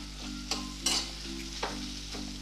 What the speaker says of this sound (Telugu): ఇవి మనం కొంచెం ఫ్రై చేసుకుందాం